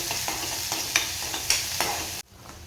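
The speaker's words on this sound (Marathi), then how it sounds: "हे आलं लसूण मिरची याचं भरपूर असं वाटण घालणार आहे। वाटण आहे ते परतून घ्यायचं आहे।" Ginger, garlic and green chili paste sizzles and spatters steadily in hot oil while being stirred, with a few sharper scraping strokes, before the sound cuts off abruptly near the end.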